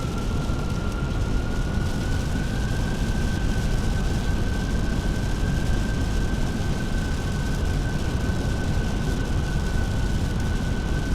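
An easyJet Airbus A320 in a simulated landing in Microsoft Flight Simulator 2020, a steady loud engine roar with a constant high whine running unbroken throughout.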